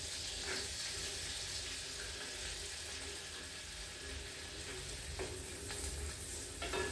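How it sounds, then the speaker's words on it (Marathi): Garlic and finely chopped carrot sautéing in a pan for corn soup, giving a steady soft sizzle throughout with faint stirring scrapes and small clinks, no talk. "लसूण थोडासाच परतून घ्यायचा तो, आणि हे गाजराचे बारीक चिरलेले आहे ते पण घालते"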